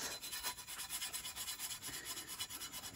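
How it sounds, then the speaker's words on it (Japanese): Hand sanding with 80-grit sandpaper on a bamboo-shoot digging tool being restored, heard as a quiet, rhythmic back-and-forth rasping of about ten even strokes, close by with no voices. "サンドペーパー手で用意しました。"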